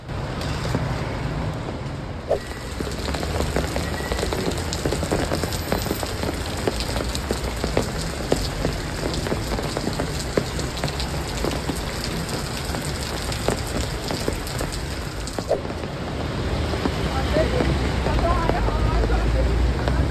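Steady rain pours down on a night street in Rasht, a dense hiss of drops on hard surfaces with scattered sharper splats, continuous and close for the whole stretch.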